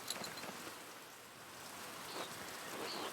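Steady rain falls and patters on surfaces in the video game Pentiment, a soft continuous hiss of moderate loudness with no voices.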